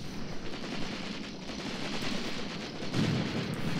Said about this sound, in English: Nice, got some gunfire from the houses.